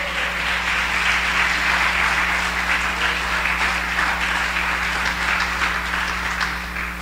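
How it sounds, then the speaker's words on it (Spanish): A church congregation applauding in praise during a Spanish-language service, a dense, continuous roar of many hands clapping that holds steady for the whole stretch over a low hum. "¿Cuántos le puede dar un aplauso al Padre Celestial?"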